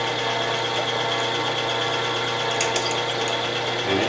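A power tapping machine runs steadily at a slow 80 RPM, giving a loud, even mechanical hum and whine with faint rattles and a brief clatter near the end, with no voices.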